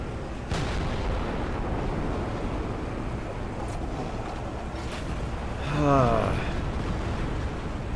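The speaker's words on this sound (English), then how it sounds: "Oh my god, I'm getting hit by artillery already." Artillery shells land around a tank in War Thunder: a sudden heavy boom opens into a sustained roaring rumble, then a swelling burst near the end, with a voice speaking over it.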